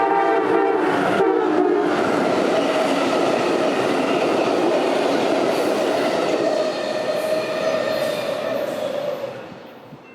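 An Amtrak train flies through at speed between Naperville and Chicago, its horn blaring loudly near the start while the roaring rush of cars and clacking wheels carries on before fading out at the end.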